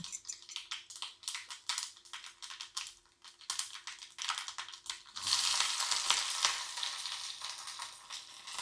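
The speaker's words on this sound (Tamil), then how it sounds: "இப்போ எண்ணெய் காஞ்சிருச்சு கடுகு போட்டுக்கலாம்" Mustard seeds crackling and popping in hot oil, rapid irregular spits that swell into a denser, louder sizzle partway through.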